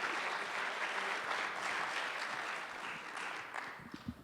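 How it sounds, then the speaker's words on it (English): A lecture audience gives a warm round of applause welcoming a speaker to a diversity lecture, continuous dense clapping that holds steady then tapers off as the room settles. "please help me welcome Dr. Jessie Daniels with a warm round of applause."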